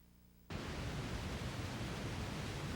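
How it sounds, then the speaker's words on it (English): Pink noise switches on abruptly after a brief quiet moment, then holds as a steady, loud broadband hiss with no variation until the end. "Another high-tech trick is to take pink or white noise"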